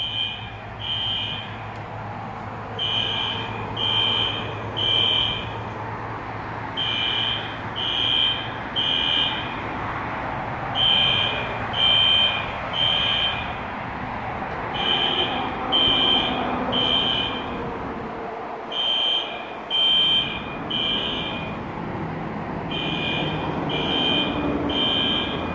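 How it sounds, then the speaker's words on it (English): Building fire alarm going off in repeated loud triple electronic beeps, a steady pulsing pattern over a low background rumble, with no talking. "Oh, I think the fire alarm is going off."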